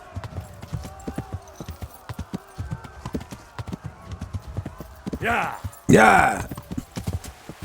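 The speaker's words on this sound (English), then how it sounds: "El caballo de momento va bien." Horse hooves clip-clop steadily in Kingdom Come: Deliverance under someone speaking Spanish, with a couple of louder, brighter bursts near the end that sound like the horse whinnying.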